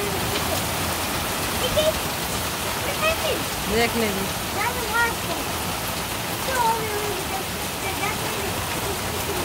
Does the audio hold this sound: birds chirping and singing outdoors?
no